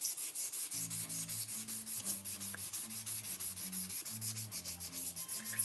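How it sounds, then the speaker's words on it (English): Hand sanding on a shop project in a workshop, a steady, close, rhythmic back-and-forth scrubbing that repeats at an even pace with no talking. "And as I'm sanding this,"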